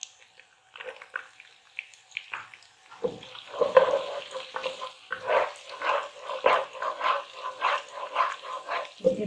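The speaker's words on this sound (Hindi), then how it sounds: "पिस्ते बादाम फ्राई हो जाएंगे" Pistachios and almonds fry in a pan for gajar ka halwa with khoya, with soft sizzling and an irregular clatter of stirring that grows busier toward the end.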